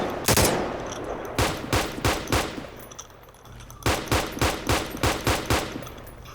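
Bursts of rapid gunfire, several loud close volleys of repeated shots separated by short pauses, with no speech.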